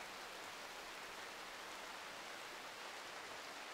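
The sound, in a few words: rain at night in the video game Rimworld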